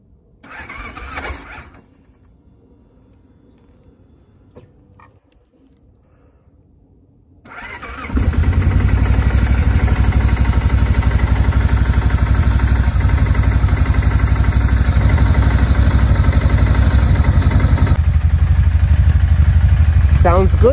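Kawasaki motorcycle engine cranked without choke, a few brief starter attempts before catching and settling into a loud, steady, close idle that runs on continuously.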